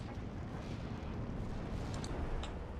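Artillery barrage in Steel Division 2, heard as dense, continuous rumbling explosions that blur into one heavy, roaring wall of noise with no clear gaps.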